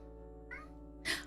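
A house cat gives a short meow, then a second, louder meow right after, both close by against a quiet room hum.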